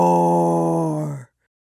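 A drawn-out, loud snore during a nap, one long steady rasping breath that cuts off sharply into silence.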